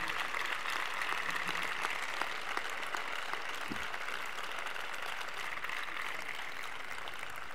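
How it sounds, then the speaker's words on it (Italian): Graduation day audience at an Italian university ceremony applauding, a steady, even wash of many hands clapping that holds at moderate volume throughout, fairly distant and without voices on top. "A me questo applauso mi apre il cuore"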